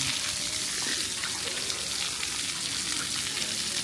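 Water spraying and splashing at an outdoor splash pad shower at Elora Gorge Conservation Area, a steady broadband hiss that fills the whole stretch without pause, loud and close, with no clear talk over it.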